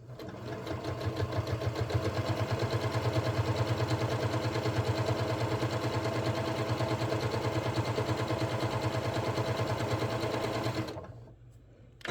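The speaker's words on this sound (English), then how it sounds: "today I'm just going to do just a standard top stitching right onto the fold of my fabric" Sewing machine running steadily as it top-stitches along a fold of fabric for a notebook cover, a close rapid mechanical whir with fast rhythmic needle clatter for about eleven seconds before stopping abruptly.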